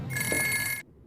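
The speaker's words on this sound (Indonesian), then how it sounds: "Telepon pun diangkat." Old-style telephone bell ringing in a room, one loud continuous metallic trill lasting just under a second before cutting off abruptly into near silence.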